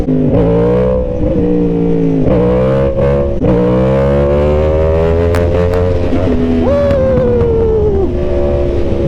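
A sport motorcycle engine revs hard during a wheelie, loud and close, its pitch climbing and dropping in repeated surges and then holding a high, steady whine.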